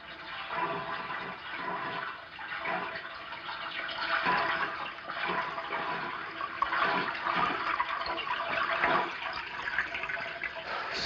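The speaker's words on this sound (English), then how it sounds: "Sounds like water running." Steady rush of running water from a water meter or household pipes at night, continuous and fairly loud for the whole stretch with faint surging swells and no talk.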